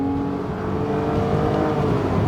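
A 1997 Porsche Boxster with a water-cooled 2.5-liter flat-six engine hums steadily while driving, a continuous, fairly loud engine drone with road noise and no talking.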